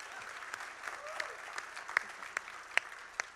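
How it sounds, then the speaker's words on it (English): An audience claps steadily, a dense patter of many hands at moderate loudness with a few sharper individual claps standing out. "Can we give a round of applause for the courage?"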